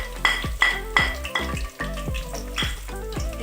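Curry leaves and cumin seeds hit hot oil in a pan for a spinach and potato sabzi, spitting and crackling in a series of sharp, repeated bursts, close and fairly loud, with no talking.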